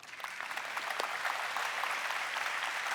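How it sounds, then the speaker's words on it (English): Steady applause from an audience at an awards event fills the space, a dense wash of many hands clapping at moderate volume. "And you can clap"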